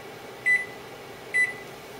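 A kitchen timer being set gives two short, clear electronic beeps, evenly spaced about a second apart, over a low steady room hum.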